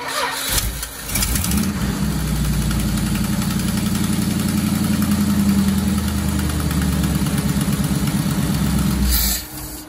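A big block Mopar V8 fitted with Holley Sniper EFI cranks and catches, then settles into a loud, steady, lumpy idle for several seconds before cutting off near the end.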